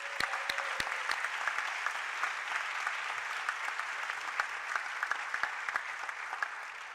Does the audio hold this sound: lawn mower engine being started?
no